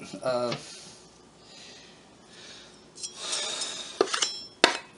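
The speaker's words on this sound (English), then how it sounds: "The knife is cutting" A knife on a board while vegetables are prepped for bean soup, with a few scattered clinks and sharp taps of blade and utensils over a quiet kitchen background and a brief tonal sound near the start.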